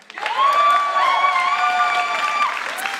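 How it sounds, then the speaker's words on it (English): A loud crowd at a StarCraft 2 esports grand final cheers and shouts with sustained whoops over clapping, voices blending into a continuous roar of audience excitement. "big round of applause for yourself"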